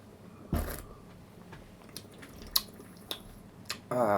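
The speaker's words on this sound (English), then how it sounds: "make that little bubbling sound with our mouth" Wet slurping and bubbling mouth sounds while tasting wine, with scattered small smacks, ending in a louder gurgling burst close to the listener.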